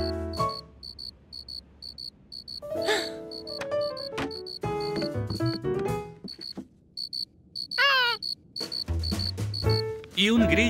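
A cricket chirps in quick, regular bursts throughout, bright and steady, with other softer sounds and a voice now and then underneath.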